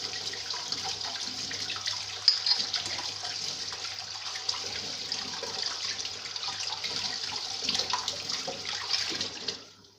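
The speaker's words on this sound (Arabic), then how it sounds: "هنشطفها معاكم اهو، نغسلها." Tap water streams and splashes as a gas stove burner grate is rinsed under a faucet, a steady hiss of running water that cuts off at the end.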